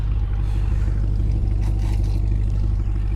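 Chevrolet Corvette C8 Z51 convertible with dual mode exhaust, a steady deep rumbling idle, loud and close, continuous with no talk over it.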